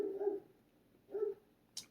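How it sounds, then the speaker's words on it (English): A pet dog indoors gives two separate, fairly muffled barks about a second apart, followed by a brief sharp click. "apologies if you can hear my dog barking"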